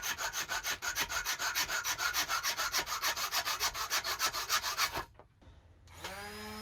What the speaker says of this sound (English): went back to my favourite activity, sanding down yet more planks